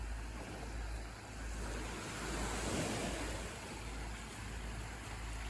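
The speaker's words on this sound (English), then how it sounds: "That beach seems to be a little bit more rough, and you get quite a lot of waves breaking." Waves break steadily on the rough surf of Ao Yai beach on Koh Phayam, Thailand, a continuous close wash of water with wind buffeting the microphone and no voices.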